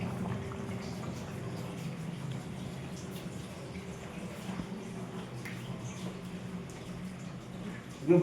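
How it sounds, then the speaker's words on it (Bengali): Fish curry simmers in a pot with a soft, steady bubbling and faint liquid murmur, heard quietly and close, ending with a brief louder clatter. "এদিকে মাছের ঝোল হচ্ছে।"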